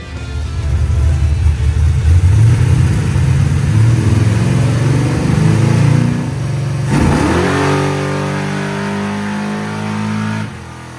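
Car engine with a 950 carburetor revving hard through a dyno pull, a loud sustained roar climbing in pitch for about six seconds, then a brief blip and a steady high rev before cutting off near the end.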